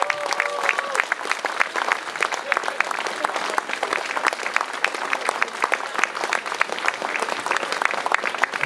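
An outdoor crowd at an anti-war, anti-fascism demonstration in Berlin applauds steadily to welcome 90-year-old activist Erika Baum, with sustained, dense clapping and occasional cheers that stay loud throughout.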